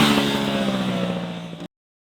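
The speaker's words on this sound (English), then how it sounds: "It makes a really nice roar, not too much, not too little, just right." Aprilia RS 457 parallel twin engine of about 450 cc revving in a short, loud burst with a steady throaty roar and dense harmonics, cutting off abruptly after about a second and a half.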